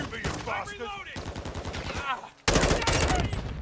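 Rapid bursts of gunfire in Modern Warfare II multiplayer, tight rhythmic shots rattling loudly, with a heavier, louder volley near the end and someone talking partly underneath.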